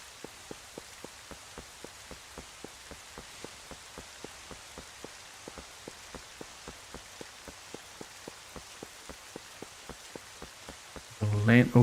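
Rain falling in the video game The Legend of Zelda: Twilight Princess, a soft steady patter with evenly spaced drip-like taps throughout, ending with a brief louder burst of sound.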